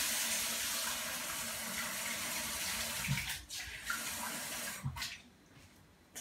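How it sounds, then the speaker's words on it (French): Warm water poured from a glass into a bowl of pizza-roll dough ingredients with warm milk, a steady liquid pour running close and fairly loud for about three seconds, then two short splashing pours, no talking. "Je vais rajouter un verre d'eau tiède."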